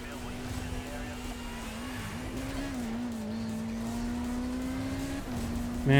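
A car drifts in a racing video game with a sustained engine drone and a wavering tire squeal that dips and recovers as the car slides, ending in a sharp louder burst.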